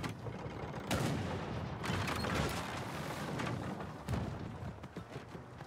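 Explosives go off in the video game Party Animals, several muffled bursts and crackling pops scattered over a busy, fairly quiet background of game noise.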